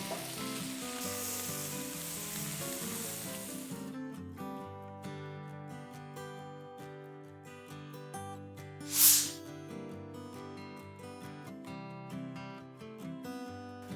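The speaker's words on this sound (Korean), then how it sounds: "불은 너무 세지 않게 중불 정도로 볶아주세요." Fish heads stir-fry in melted butter over medium heat with a steady sizzle under background music. A short sharp spike comes near the middle.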